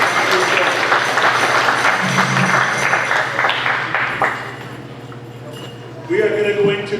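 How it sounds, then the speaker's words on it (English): Audience applause for a flute player at a powwow dance event at Danceland, Manitou Beach, Saskatchewan; a few seconds of clapping that fades, then talk and crowd noise follow. "So let's give him a nice round of applause."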